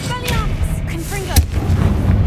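Spell blasts fire in the video game Hogwarts Legacy on hard mode: sharp booming impacts punctuate a busy combat mix, with a loud burst near the end and a voice shouting spell names over it.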